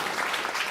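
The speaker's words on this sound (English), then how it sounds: "Round of applause for Zipper." A brief burst of audience applause at a rock music quiz show, steady and moderately loud, cut short after a moment.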